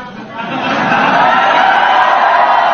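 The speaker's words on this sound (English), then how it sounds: "That's the press cheering." Members of the press cheering and shouting together in a room, a loud, dense crowd roar that swells within the first second and holds steady, with voices blended into a continuous din.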